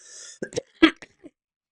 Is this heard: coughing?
yes